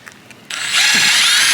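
A power drill drives screws into a shingle roof flange, starting abruptly after a quiet moment and holding a loud, steady high whine with a low chattering underneath.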